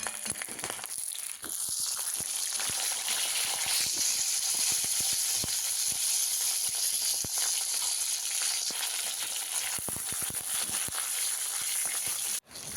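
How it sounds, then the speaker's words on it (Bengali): Black mustard seeds sizzle in hot oil for tempering, a continuous bright hiss dotted with many quick pops and crackles, close and steady until an abrupt stop at the end. "আর এই কালো সর্ষে দিয়ে আমি ফোড়ন দিলাম"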